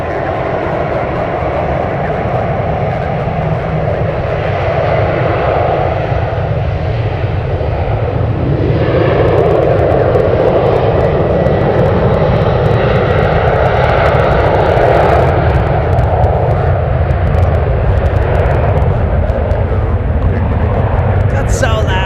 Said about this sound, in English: Delta cleared for takeoff. Finally being able to take off.